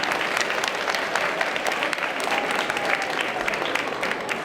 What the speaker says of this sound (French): alors on peut s'il vous plaît l'applaudir